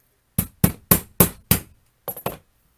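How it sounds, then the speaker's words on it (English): Seven sharp metallic taps from scissors used as a hammer, five in a steady row then a quick pair after a pause, close and fairly loud, with no talking. "Scissors make for a great hammer,"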